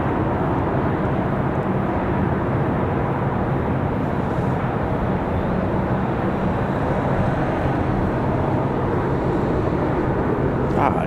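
A JetBlue airliner departing from Raleigh-Durham for Boston, a continuous broad engine roar filling the scene at steady loudness with no talking over it.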